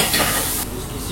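Prawns frying in a pan as chopped onions and garlic are stirred in, a loud close sizzle with scraping stir sounds that quieten slightly partway through.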